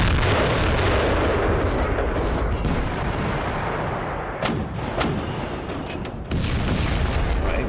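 A battery of twelve 105 mm artillery guns firing in the Panzer Campaigns Bulge 44 wargame, a dense roaring barrage of overlapping booms that briefly thins before swelling again.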